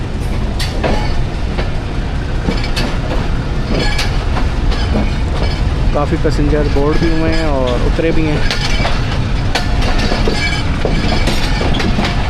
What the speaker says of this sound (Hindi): झमट रेलवे स्टेशन से डिपार्चर हो रहा है जी 130 डाउन थाल एक्सप्रेस का